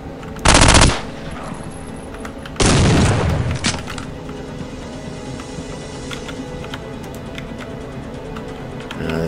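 A flashbang grenade goes off in the shooter game Soldier of Fortune 2, with two loud, dense bursts in quick succession that leave a steady ringing drone behind them.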